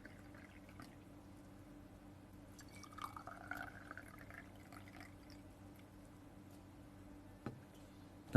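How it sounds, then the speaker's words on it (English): Starch solution is poured from a container into glass beakers in a quiet room for a school science activity, with a soft trickle of liquid and faint drips followed by a light glass clink at the end. "Pour equal quantity of the starch solution in both the beakers."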